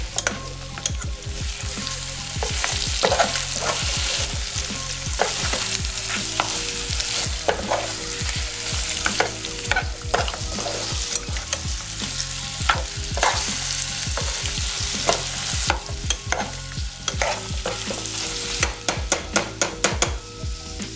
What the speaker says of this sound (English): I'm going to add my some onions and a bit of crushed chili. And stir.